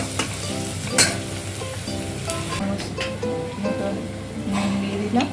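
Fenugreek seeds hit hot oil in a pan and crackle with a continuous, lively sizzle and occasional stirring clinks, while a voice talks over it.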